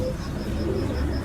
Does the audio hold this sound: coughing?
no